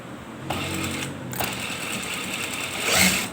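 A sewing machine stitches the seam of a shalwar with a steady mechanical whirring hum, up close and moderately loud, changing pitch briefly where the stitching pauses and then picks back up.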